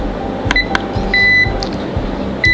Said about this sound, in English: When the minute is up, you're gonna hear a beeping sound, and it will unlock